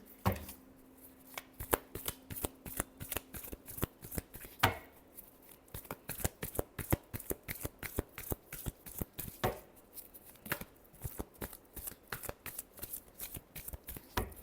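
Tarot cards are shuffled by hand in a long, steady run of quick, crisp riffling slaps and flutters, close and fairly quiet, with no voices.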